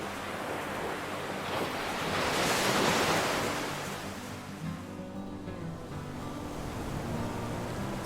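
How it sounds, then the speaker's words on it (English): Ocean waves roll onto My Khe Beach in Da Nang, a broad steady wash of surf that swells to a peak and then recedes, with wind buffeting the microphone and no voices. "waves that roll in with a rhythm that feels almost meditative, and a breeze that carries the scent of salt"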